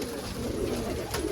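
Steady low cooing from a flock of fancy coloured pigeons kept in a loft, a dense close murmur with a brief sharp sound near the end.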